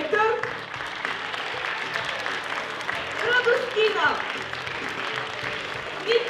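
Applause from a concert audience for student performers from a vocal-instrumental group, a sustained moderate clapping that continues while an announcer calls out a name over it.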